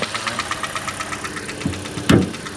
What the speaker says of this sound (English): The engine runs really quietly. It makes a little ticking noise.